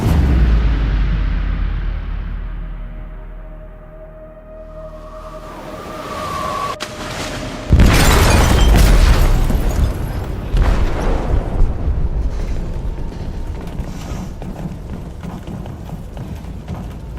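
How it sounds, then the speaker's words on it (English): A heavy explosion goes off in a ship's hold in the game Detroit Become Human, a sudden loud blast with a broad rumbling roar that lingers amid ongoing clatter and low background rumble. "They detonated an explosive in the hold."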